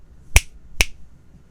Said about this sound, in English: give me some clapping again so I can find it